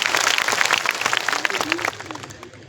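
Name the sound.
applause for the saints at a community meeting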